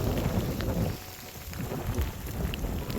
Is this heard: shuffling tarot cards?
no